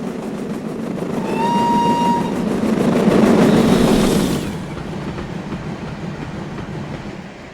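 An LBSCR E2 steam locomotive in Train Simulator rolls along with steady rail rumble and clicking wheels, and a bright whistle sounds early and fades after a few seconds. The engine keeps running loudly and evenly afterward.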